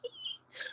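A house cat gives a brief, thin whimpering cry, two quick high-pitched bursts within a second, close and faint over a low hum.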